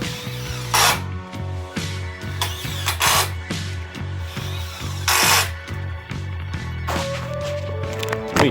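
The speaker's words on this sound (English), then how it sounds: "So we're going to drill this in we're going to pre-drill and then drill." Power drill driving screws into a wooden secret door, repeated whirring bursts of motor speed rising and falling, close and fairly loud, with tool clatter between runs.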